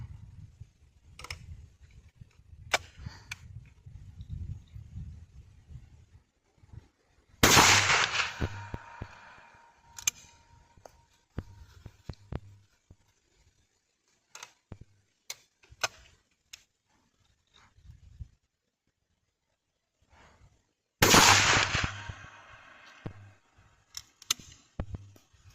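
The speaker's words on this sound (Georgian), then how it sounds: "ვისვრით ბაშირის თრილ შოქს, ჩოკი გვიყენია 3 წრილიანი" Two loud, sharp shotgun blasts from a F.A.I.R SLX-800 firing B&P Thrill Shock shells through a three-star half choke, each with a short ringing tail, spaced well apart among quieter clicks and handling noises.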